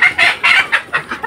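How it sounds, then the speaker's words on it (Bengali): Chickens clucking and a rooster crowing on a rural homestead where ducks and hens are kept, loud and close in a series of rising and falling calls with short gaps between them and no talking. "এখানে হাঁস মুরগির আওয়াজ ছাড়া আর কিছু নেই।"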